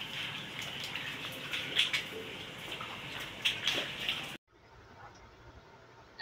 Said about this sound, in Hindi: इतना पानी आ रहा है छत से ये देखें